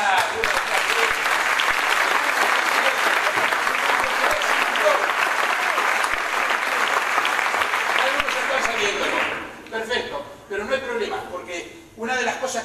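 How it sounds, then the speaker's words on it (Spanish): Loud, dense applause from a live audience fills the hall for about nine seconds, then thins into scattered clapping with voices coming through near the end. "Además del aplauso."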